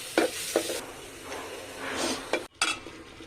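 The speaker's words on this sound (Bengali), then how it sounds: "তেলটা দিয়ে আগে আমি মশলাটাকে ভালোভাবে কষে" Spice paste for mustard hilsa frying and being stirred in oil, a steady close sizzle broken by a few sharp scrapes and clinks of the spoon against the pan.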